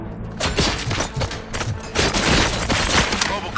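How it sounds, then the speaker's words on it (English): Gunfire in the video game Robocop: Rogue City, a rapid fusillade of loud, close shots, dense bursts overlapping with booming thuds across the whole stretch. "Gunshots? What's going on?"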